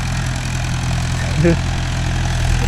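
A Mahindra 575 DI tractor engine idles and chugs steadily up close while the two-wheel-drive tractor struggles to turn in a tight field during cultivator work, with a brief rise in the sound partway through and a voice talking over it.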